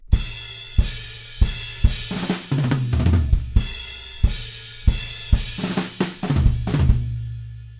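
A drum kit plays a fast fill from a song at full tempo: sharp snare and tom hits in quick runs, crashing cymbals, and kick drum accents, loud and close with no talking.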